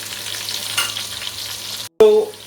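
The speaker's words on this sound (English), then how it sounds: "So here we are going to fry these onions until unless it becomes brownish." Chopped onions frying and being stirred in a pan for mutton yakhni pulao: a steady close sizzle, then a brief gap before a sharp, louder burst of sizzling and clattering as the onions are stirred.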